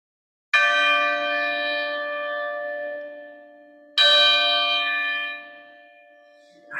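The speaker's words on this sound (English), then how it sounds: "The bell invites me." A stage bell effect in a Macbeth rehearsal tolls twice, each loud, clear strike followed by a long shimmering ring that slowly fades, with silence before the first stroke.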